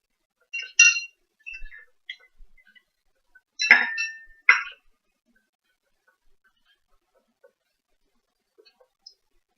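A spoon stirs tea with milk, sugar and honey in cups, giving a few bright, sparse clinks against the cup sides, close and clear, separated by quiet pauses.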